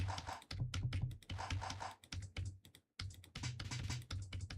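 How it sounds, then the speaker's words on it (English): A basic FL Studio drum kit with kick, clap, hi-hat and snare plays a steady beat, its deep kick thumps alternating with sharp, bright clap and hat hits in a busy pattern after a brief pause. "you'll only have a kick, a clap, a hi-hat, and a snare"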